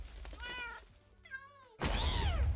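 A cat meows from a Minecraft mod: a pair of short, close, tonal meows, then a louder, drawn-out wailing meow over a low rumbling background.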